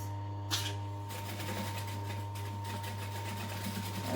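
Sewing machine back stitching a seam on a duffel bag, a steady mechanical hum with a fast rhythmic whir running throughout, close and fairly quiet, with a short clack near the start.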